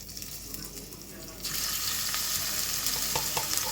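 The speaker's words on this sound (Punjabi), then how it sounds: "ਜੀਰਾ ਚੰਗੀ ਤਰ੍ਹਾਂ ਭੁੰਨਾਂਗੇ ਇੱਕ ਚਮਚ ਪਾਵਾਂਗੇ ਜੀ ਲਸਣ ਕੱਟਿਆ ਹੋਇਆ" Cumin and chopped garlic fry in a pan for chicken liver curry, a soft sizzle that suddenly swells into a loud, bright continuous hiss partway through, with occasional sharp pops.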